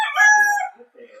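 A McLean Hatch gamefowl rooster gives a single short, close crow that trails off, followed by a faint low cluck.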